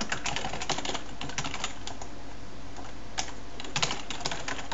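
Rapid, uneven keystrokes on a computer keyboard as C++ code is typed, close and moderately loud, with bursts of clicking separated by brief pauses and no talking.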